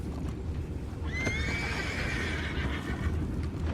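A horse gives a loud, drawn-out whinny that rises and trembles, over a rumbling background with faint hoofbeats.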